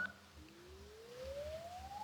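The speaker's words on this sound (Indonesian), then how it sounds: "Receiver atau earpiece suara penerimaan telepon." Earpiece receiver of a Samsung Galaxy S21 FE 5G 256GB phone plays a test tone, a faint, thin rising sweep gliding steadily upward over about two seconds against quiet background noise.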